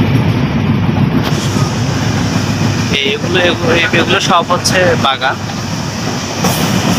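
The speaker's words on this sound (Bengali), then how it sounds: "আপনারা দেখছেন আমাদের ট্রেন যাচ্ছে।" A passenger train travelling through Dinajpur in Bangladesh gives a steady, loud rumble of the carriages on the rails throughout, while someone speaks over it partway through.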